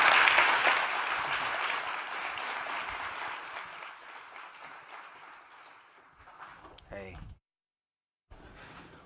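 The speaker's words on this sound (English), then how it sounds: "Let's give them a round of applause" Audience applause at the National Geographic Explorers Festival, a dense, loud burst of clapping that gradually thins and fades, followed by a brief voice before a sudden cut to silence and a return of faint room sound.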